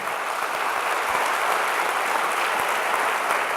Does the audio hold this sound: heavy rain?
no